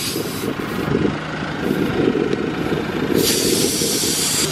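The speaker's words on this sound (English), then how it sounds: "we're just deflating the tires" Steady, loud hiss of air escaping from a 2018 Jeep Wrangler Sport tire being let down, a continuous close rush that swells slightly at times with no talking over it.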